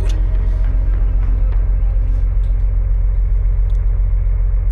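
A sports car in the indie horror driving game Driving Home cruises along a road with a steady, droning engine hum and deep low rumble, loud and continuous with no talk over it.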